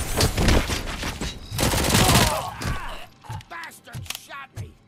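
Gunfire rattles in the video game Robocop Rogue City as a burst of loud overlapping shots and impacts, then scattered single cracks and thuds. Distorted game voices talk through the firefight.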